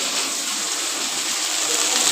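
Okra sizzling in hot oil as it fries to a light red, a steady, dense hiss held at an even loudness throughout without pause.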